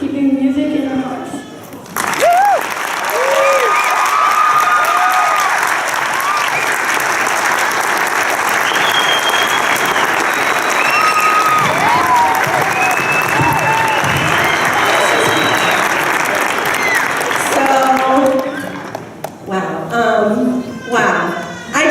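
An audience at a school dance concert bursts into loud, sustained applause for a music teacher, with cheers and whoops over dense clapping that fades out near the end, followed by brief talk.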